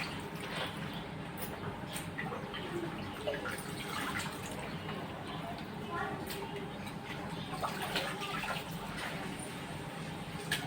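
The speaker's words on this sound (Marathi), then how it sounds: "बटाटे स्वच्छ 2-3 पाण्याने धुतले म्हणजे बटाटे तर स्टार्च पूर्ण निघून जातो" Potatoes rinsed in a bowl of water, with continuous splashing, dripping and sloshing that stays steady throughout, close by, a voice talking faintly underneath.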